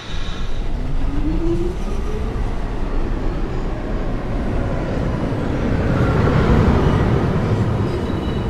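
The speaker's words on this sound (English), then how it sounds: "This is a 1 train going downtown towards Rose Street." A southbound 1 local subway train runs downtown toward the next station, a steady loud rumble and rolling roar of wheels on rails that swells slightly near the end, with no talk.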